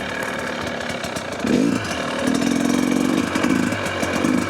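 A dirt bike engine revving over a log with controlled throttle, a steady mid-pitched drone that swells in short bursts as the throttle is blipped, close and loud, with no voices.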